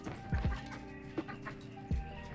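Pet chicken Fluff clucking outdoors on a beach in Jamaica, a few short low clucks and a soft squawk scattered across a quiet background, fairly close.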